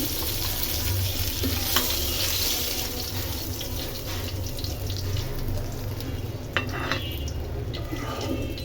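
Hilsa fish fries in hot oil, a constant dense sizzle close to the pan with occasional spatula clicks and scrapes throughout.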